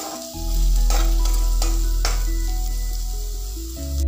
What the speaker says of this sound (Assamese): এনেকৈ অলপ দেৰি ভজাৰ পাছত যেতিয়া মছলাই তেলটো এৰিব তেতিয়ালৈকে মই অলপ লৰাই ভাজি থাকিম।